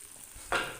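Spices and red chili powder sizzle in a pan as they are stirred for a paneer dish, a quiet fry followed by a single brief scraping stir near the end.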